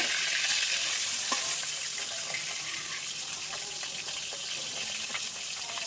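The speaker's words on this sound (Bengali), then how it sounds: "কড়াইতে তেল দিয়ে লবণ মরিচ দিয়ে রুই মাছকে ভালো করে মাখিয়ে তেলে ভেজে নিচ্ছে।" Rui fish frying in hot oil in a wok, a loud, steady, even sizzle that holds throughout with faint scattered stirring clicks.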